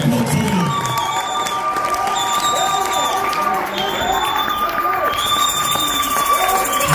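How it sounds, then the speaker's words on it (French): A church congregation cheers and shouts in acclamation of God, a dense, loud crowd roar with high exclamations and ululation-like cries sustained throughout. "Acclamez très fort le Dieu."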